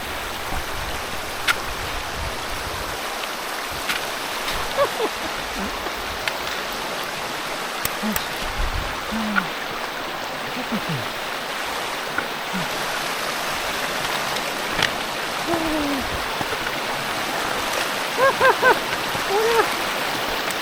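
A mountain river rushes steadily through the Garagara Sawa valley at Happo-oné, a continuous broadband wash of flowing water close by that holds an even level throughout, with faint brief sounds over it.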